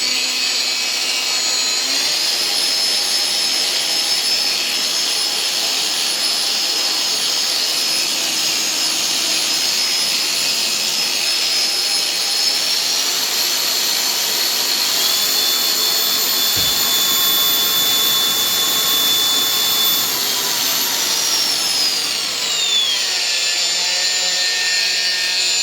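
A Makita DGA513Z brushless variable-speed angle grinder runs free and close, a steady high whine that shifts upward in pitch midway, holds, then winds down near the end.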